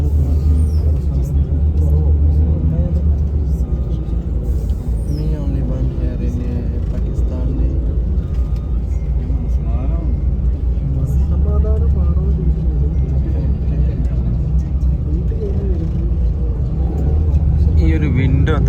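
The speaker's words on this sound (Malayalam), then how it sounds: "അപ്പോൾ ഷാർപ്പ് ടൈമിൽ തന്നെ നമ്മൾ ദുബായിലേക്കുള്ള ബസ് അവിടെ നിന്ന് പുറപ്പെട്ടു കേട്ടോ" Steady low rumble of a bus engine on an intercity run from Al Ain to Dubai, continuous and droning from inside the cabin, with faint voices over it.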